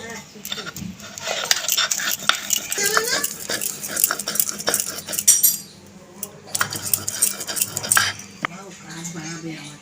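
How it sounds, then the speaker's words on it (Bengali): Fried chili and garlic being ground into a paste for a bottle gourd peel chutney, with steady scraping and clattering of the grinding stone and utensils, near and fairly loud, pausing briefly midway. "ভাজা লঙ্কা আর রসুনটাও বেটে নেব।"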